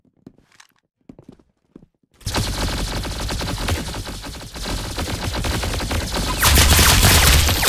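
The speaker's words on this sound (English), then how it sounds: "That's some beautiful shooting right there." Rapid gunfire in the Roblox Arsenal first-person shooter, starting after a couple of seconds of faint quiet sounds and then running as a dense, continuous burst that grows louder toward the end.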